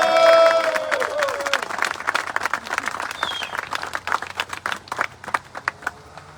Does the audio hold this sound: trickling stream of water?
no